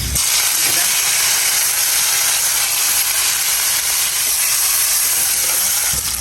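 Dried shrimp frying in hot oil after tempering with cumin, black cumin and poppy seeds, producing a loud, unbroken close hiss that holds steady from start to finish.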